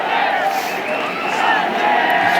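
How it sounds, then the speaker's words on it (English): A cricket crowd at a women's Test match between England and India roars and cries out for Sachin Tendulkar, a dense, steady wall of massed voices that holds at full loudness throughout. "Hear the cries for Sachin."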